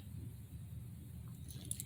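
A dog chews and gnaws on something indoors with faint, soft, wet crunching and biting. The sound stays quiet and continuous throughout, with no speech.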